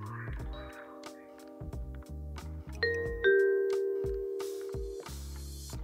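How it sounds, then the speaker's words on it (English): A doorbell chimes with a clear ding-dong through a Sonos speaker, its ringing tones sustaining and fading, amid some clicks and rustling nearby. "you'll have heard the doorbell sound"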